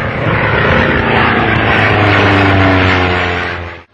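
British Royal Air Force military propeller planes climb during a flight tryout, their engines a loud, steady drone with a sustained tonal hum that builds slightly and then cuts off abruptly at the end.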